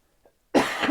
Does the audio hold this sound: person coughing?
yes